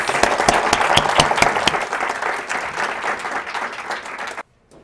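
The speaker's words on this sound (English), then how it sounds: "give our panelists a round of applause" An audience applauds panelists at a talk with dense, sustained clapping for several seconds, then it cuts off abruptly into silence.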